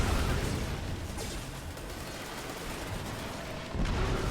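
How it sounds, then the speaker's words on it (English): Continuous dense gunfire and booming blasts from a firefight in the video game Destiny 2, a loud, noisy barrage that dips slightly midway and swells again near the end. "I hear a lot of shooting."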